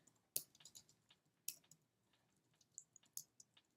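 Quiet, scattered clicks of typing on a computer keyboard, with a few sharper keystrokes standing out among soft irregular taps in a near-silent room.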